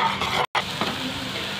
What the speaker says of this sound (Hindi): इसको अच्छे से भूनेंगे सभी मसाले को।